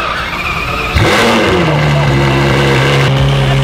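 A Ferrari F12 fitted with a freshly installed loud aftermarket exhaust starts up with a sudden burst, then settles into a steady, loud, close idle drone with a brief rise near the end.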